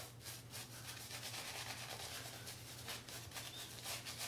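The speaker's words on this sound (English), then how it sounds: "Just start lathering up." Mula sandalwood shaving cream is worked into a lather with a brush, a soft continuous swishing and rubbing that is faint and close, heard alone under a low steady hum.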